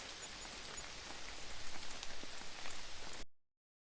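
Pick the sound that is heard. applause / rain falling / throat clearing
rain falling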